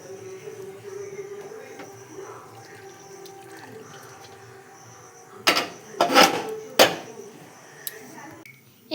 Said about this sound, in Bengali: নিয়ে এবারে এটাকে আমি কাপের মধ্যে ছেঁকে নেব